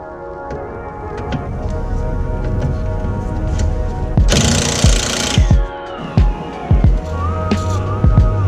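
Impact or power tool loosening steering rack subframe bolts on a 2015 Subaru STI, loud rattling hammering bursts close up with a sharp hissing burst midway and intermittent clanks, no talk.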